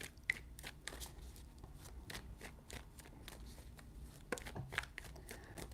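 Tarot cards are shuffled close by in a quiet room, a run of soft riffling and flicking bursts repeating through the stretch, with no talking.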